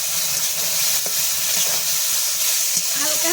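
Hot pan hisses and sizzles steadily as water goes onto red-roasted semolina (suji) for a spicy vegetarian jhal suji, a dense continuous frying noise with a few brief stirring clinks and no talking.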